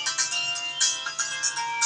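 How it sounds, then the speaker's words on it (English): A phone ringtone plays a bright, repeating electronic melody, clear and close, in quick pulsing notes with no talk over it. "That's my phone."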